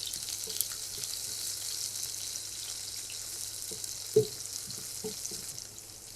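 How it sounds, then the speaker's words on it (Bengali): Onions frying in a tablespoon of oil for an okra do-pyaza, a soft steady sizzle running throughout at low level, with a couple of faint clinks of a utensil stirring in the pan. "1 টেবিল চামচ তেল দিয়ে দিলাম, খানিকটা পেঁয়াজ দিলাম"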